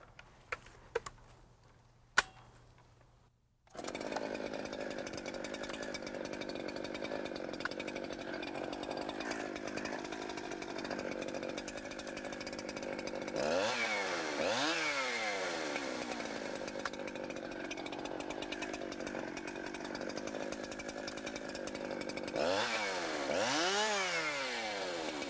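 Chainsaw idling and revving after a small turn of the carburetor L screw during field maintenance, a steady close drone broken by two sharp rising-and-falling throttle blips, following a brief quiet start with a few clicks.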